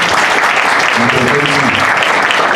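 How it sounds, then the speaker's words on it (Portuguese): Dense, loud applause from an audience at a public presentation on a rail yard project, a continuous wash of clapping with faint voices mixed in underneath. "pedir uma salva de palmas a todos que se apresentaram aqui"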